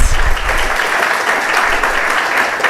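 A lecture hall audience at a university occasional lecture gives a steady, loud round of applause as the lecturer takes his seat, continuous clapping throughout.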